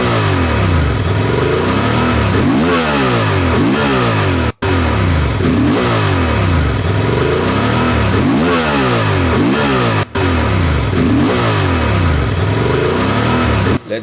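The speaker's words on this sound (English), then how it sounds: "Actually, when you start to apply the throttle." A Honda Transalp motorcycle engine revs hard under throttle in repeated rising and falling sweeps, loud and close, with two short breaks in a steady run of throaty acceleration.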